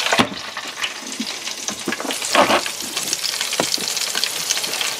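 Volkswagen currywurst sausages frying in a covered pan make a loud, close, steady sizzle with bursts of spitting and crackling fat, heard alone without talk.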